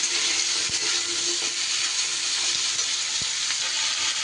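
Pumpkin pieces frying in a pan for a Bengali vegetarian chhyachra, a loud, steady sizzle that fills the whole stretch, with a few faint clicks of utensils.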